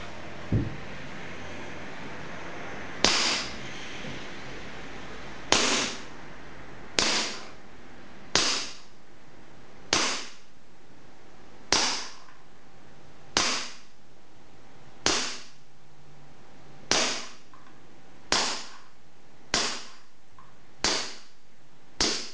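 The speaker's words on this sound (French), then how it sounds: "premier tir sur une cible 5 cm de diamètre à 5 mètres" KWC 1911 CO2 airsoft pistol firing at a target about five meters away: a steady series of around fifteen sharp, loud pops spaced a second or two apart, each with a short decay, with no talking.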